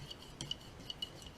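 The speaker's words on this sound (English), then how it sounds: "I'm just going to start using my spoon and I'm going to kind of mix it" A metal spoon clinks against a cup while stirring coffee mix, a handful of light, sharp taps at an uneven pace, quiet and close.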